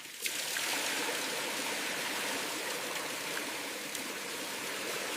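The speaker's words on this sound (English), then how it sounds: "Continue flushing until water is clear." Water flushes through a newly installed PPR pipe system, a steady, even rushing flow that holds at the same level throughout with no voices.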